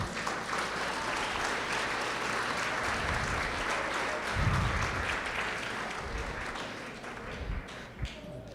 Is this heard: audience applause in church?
yes